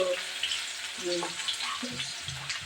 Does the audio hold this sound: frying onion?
yes